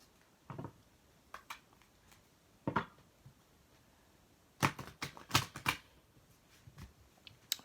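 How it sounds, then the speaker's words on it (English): Quiet, sparse tarot card shuffling: soft papery riffles and taps in irregular bursts, with a denser cluster midway, close and faint. "I'm just going to go ahead and shuffle."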